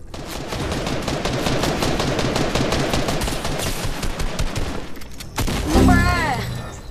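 Rapid gunfire fills a Fortnite match, with dense, fast bursts of shots for several seconds, a short lull, then a louder burst of sound effects near the end.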